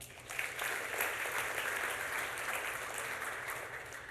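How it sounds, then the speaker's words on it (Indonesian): Audience at a seminar applauding in a steady, dense wash of clapping that carries on evenly for the whole stretch, moderately distant and without any voices over it. "Tepuk tangan."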